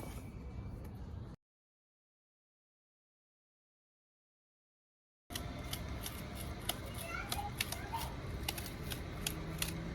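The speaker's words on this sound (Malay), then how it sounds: "So kita lukis triangle kecil kat sini, lepas tu kita potong." Scissors snip through cardboard while shaping a small triangle piece for a Silent Hill Pyramid Head costume, giving close, repeated crisp cuts after a brief gap of silence.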